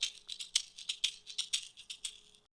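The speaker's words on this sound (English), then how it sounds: "Let's go to the tube shaker, and I'll go to loose." Tube shaker from the Klevgrand percussion app on its normal setting, a quick bright rhythmic rattle of about a dozen crisp shakes with a steady pulse, clean and isolated before stopping abruptly.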